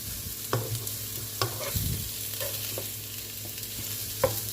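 Pumpkin squash stir-fried in a pan with seasoning and spices, a steady sizzle broken by several scraping stirs of a spatula against the pan, close and alone with no talk.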